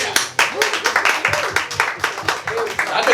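An audience at a stand-up comedy show claps in quick rhythmic bursts while a performer keeps talking loudly over the clapping.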